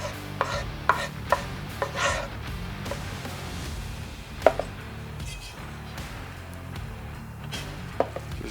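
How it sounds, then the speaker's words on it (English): Shrimp mixture with egg, sesame oil, bourbon, hot sauce and garlic powder is stirred in a bowl, producing soft repeated knocks and scrapes against a steady low background hum, with a few sharper taps spaced through it. "Just get it stirred up"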